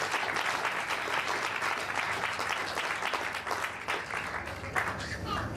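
Congregation applauding steadily at a church service, dense sustained clapping filling the room with a few sharper claps standing out near the end.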